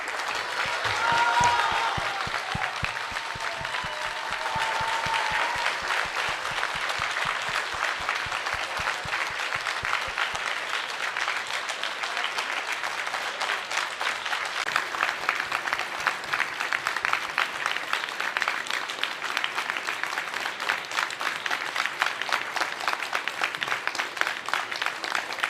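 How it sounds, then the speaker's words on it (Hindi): An audience at a literature festival welcomes its guests with sustained, steady clapping from a large crowd, a long, even wash of applause with no voices rising above it. "जोरदार तालियों से स्वागत करें।"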